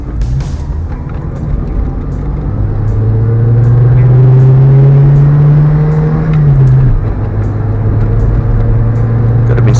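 A car moves slowly and steadily along a road past people on a Christmas drive, its engine a low continuous hum that swells a little in the middle and then settles, close and alone without talk.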